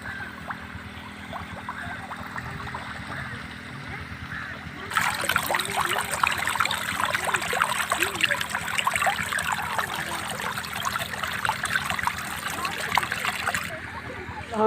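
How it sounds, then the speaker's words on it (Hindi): Water from a bike-powered irrigation setup pours into a field bed, a steady gurgling trickle that turns into a louder, fuller splashing flow midway, then drops off again near the end. "आप देख सकते हैं कि पानी कितना आ रहा है।"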